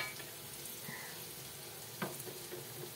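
Pabda fish poured into a pan, giving a faint, steady sizzle with a soft clatter partway through.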